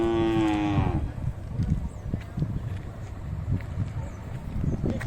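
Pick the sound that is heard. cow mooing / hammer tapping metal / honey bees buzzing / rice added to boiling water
cow mooing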